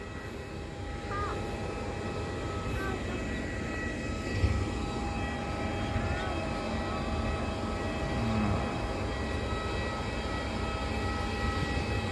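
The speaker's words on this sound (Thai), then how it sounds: "มาดูเครื่องบินลำใหญ่" Large Thai Airways airliner at an airport, a steady broadband engine roar and whine holding constant throughout with no talk over it.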